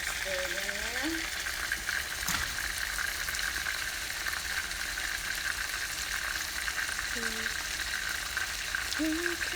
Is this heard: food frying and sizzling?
yes